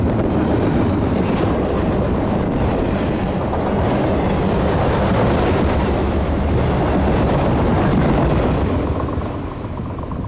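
Freight train cars roll past close by, a loud, continuous rumble with rhythmic clickety-clack of wheels over rail joints and some wind buffeting the microphone.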